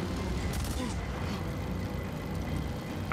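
Gunfire rattles through the Days Gone video game as a dense, continuous barrage of shots and booms, loud and steady throughout with no clear gaps between rounds.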